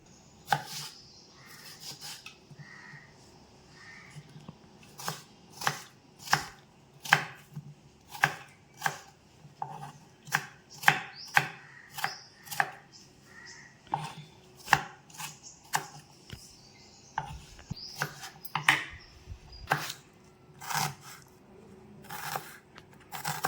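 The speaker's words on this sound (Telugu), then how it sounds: "కొయ్యటం అయిపోయింది" Cucumber being chopped on a board for an egg and cucumber dish: a steady run of crisp, close knife chops, some quick and some spaced, alone with no talk.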